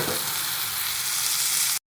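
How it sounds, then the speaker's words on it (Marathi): Ivy gourd sizzles steadily in a pan with onion, tomato, garlic and spices, a loud, close, continuous frying hiss that cuts off abruptly just before two seconds. "तोंडली चांगली परतून घेऊया आपण कांदा टोमॅटोमध्ये"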